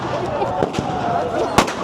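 Firecrackers bursting in the street during the Tihar festival in Kathmandu, a few sharp pops over crowd noise and talking voices, with one louder crack near the end.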